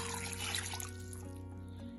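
Water poured from a container into a cooking pot for homemade dog food, a brief close trickling splash that tapers off within about a second over a steady low hum.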